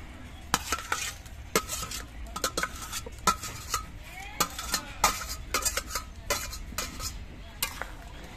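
Fried onion, capsicum and tomato being stirred into an egg dish in a pan: repeated clinking scrapes of a utensil against metal in an irregular rhythm over a faint sizzle, close and alone without talk.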